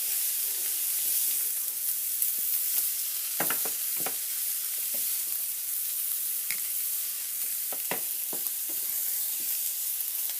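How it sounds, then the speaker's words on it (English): Broccoli, garlic and onions fry in oil in a pan while being stirred, a soft continuous sizzle broken by sharp scraping clicks from the utensil at irregular moments. "you just want to mix up the broccoli, the garlic, the onions together"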